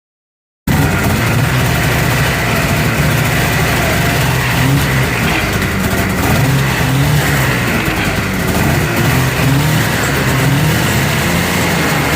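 A Polaris snowmobile engine running in a garage after a CVT clutch rebuild, its track spinning while raised. The engine drones loud and steady for the whole stretch after a brief silent start.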